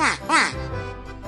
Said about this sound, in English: This is a duck. Duck says quack, quack.